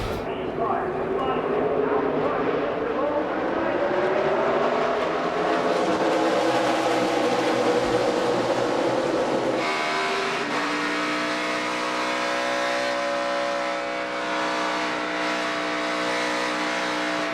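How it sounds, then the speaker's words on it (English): NASCAR stock car engines roar and rev continuously during a 2017 race, the pitch rising and falling as the throttle is worked, with a commentator talking over the noise throughout. "You can hear Harvick playing with the throttle"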